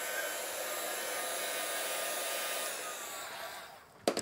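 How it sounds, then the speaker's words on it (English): A heat gun blows steadily to speed-dry paint on a painted background, a loud continuous airy roar that fades slightly before a brief clatter at the end. "And then I'll use a heat gun just to speed dry the background."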